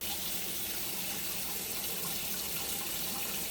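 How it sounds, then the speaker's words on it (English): Running water pours steadily into a container to rinse it while making brown rice water for hair, a continuous faint splashing rush with no pauses and no voices. "I'll just put some water in to rinse it"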